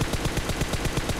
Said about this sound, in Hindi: सामने की तरफ हो रही थी फायरिंग